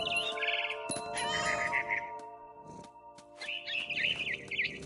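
Birds chirp in a video game, bright tweeting bursts repeated several times against a quiet ambient background, moderately faint and with no speech.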